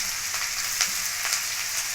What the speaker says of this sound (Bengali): তেলটা আমার গরম হয়ে গেছে। এখন আমি এখানে দিয়ে দেব লঙ্কা কুচি, আদা কুচি,